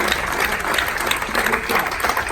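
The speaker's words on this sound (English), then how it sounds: "Let's give another big round of applause." An audience applauds a speaker at an alumni oration event, a continuous dense patter of clapping, fairly loud and close, running without pause through the short stretch.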